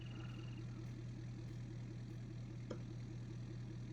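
Ford F-250 "High Boy" pickup idling in Farming Simulator 2019, heard as a steady, fairly quiet low engine rumble with an even pulsing rhythm, a brief click partway through, and no talk.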